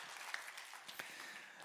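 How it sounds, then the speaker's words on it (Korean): A Korean church congregation in Orange County breaks into a brief burst of applause, faint and scattered clapping heard from a distance. "우리 박수로 한번 격려하며 파송하겠습니다"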